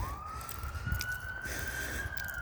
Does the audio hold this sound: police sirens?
yes